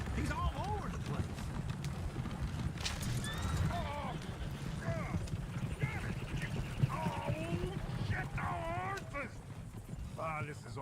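Horse-drawn coach in Red Dead Redemption 2, with clopping hooves, repeated whinnies and neighs, and a rumbling low undertone, while characters talk over it throughout.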